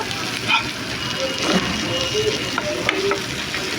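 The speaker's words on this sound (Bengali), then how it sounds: "ভেজে রাখা পটলগুলো ঢেলে দিব এবার আমি পটলগুলোকে পেঁয়াজের সঙ্গে খুব ভালো মতো মিক্স করে নেব" Fried pointed gourd being stirred with onions in a pan, a steady dense sizzle with scraping stir strokes and small clinks throughout, no talk.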